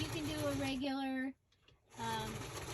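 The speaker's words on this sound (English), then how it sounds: "We're just gonna stitch this with the sewing machine" A sewing machine stitches through paper pages, its motor whining in a steady hum that stops briefly and then starts again.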